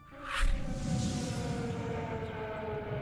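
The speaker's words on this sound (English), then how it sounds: "the sound of missile strikes and air sirens" A distant air raid siren in Kyiv, Ukraine holds a long, steady wailing tone over low rumbling background noise, after a brief whoosh at the start.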